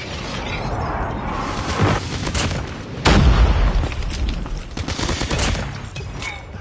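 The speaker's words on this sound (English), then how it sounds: "Friendly napalm deployed." In Call of Duty Mobile on the Shipment 1944 map, a napalm strike booms with heavy explosions amid rapid bursts of gunfire, a loud, dense, crackling barrage peaking midway.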